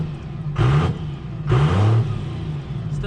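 A Cummins diesel truck engine, smoother after hood stack work, idles then revs twice in short bursts, rising and falling close by before settling back to a steady idle.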